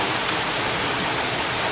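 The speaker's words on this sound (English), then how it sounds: "we've got rain" Rain pours down in Auburn, Georgia, a steady, close, even wash of hiss with no breaks.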